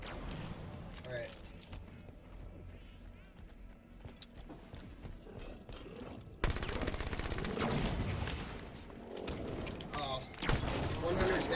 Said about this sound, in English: I tried to shotgun him from just behind.